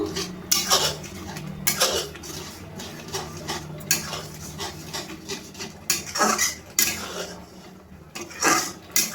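A spoon scrapes and clinks against a metal bowl while spice mix is stirred into mango pickle, giving irregular bursts of close scraping and clattering with short pauses between strokes.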